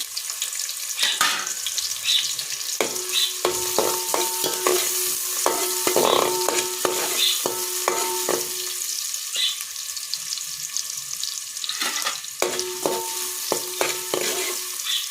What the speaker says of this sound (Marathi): कांदा गुलाबी कलर होईपर्यंत परतायचा आहे व्यवस्थित